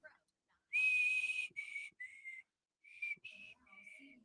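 Someone whistles a tune in clear, sustained high notes broken by short pauses, close and fairly loud, with no talking.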